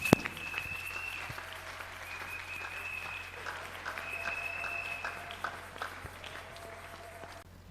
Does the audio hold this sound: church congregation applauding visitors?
yes